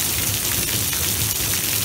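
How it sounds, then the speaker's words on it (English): Hail pelting down in a storm at Lake Elsinore, a steady dense patter of ice striking surfaces close by, continuous and fairly loud, with no voices. "Oh, it's hailing! It's hailing! It's hailing!"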